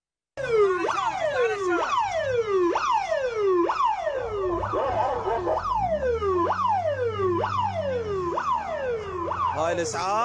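An ambulance siren wails, sweeping up and down repeatedly, loud and close, with a low engine rumble rising underneath as the ambulance goes by on its way to a road accident.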